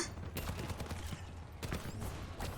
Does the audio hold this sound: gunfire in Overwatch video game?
yes